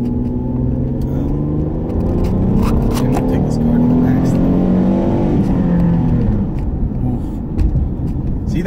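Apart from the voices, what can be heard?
new car engine revving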